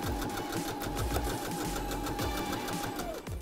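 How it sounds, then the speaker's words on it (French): A Silvercrest sewing machine stitches a fabric hem 1 cm from the edge, right sides together, on a shepherd-style vest, making a continuous rapid mechanical whir close up that stops just before the end. "on va pouvoir coudre le bas à 1 cm du bord, endroit contre endroit"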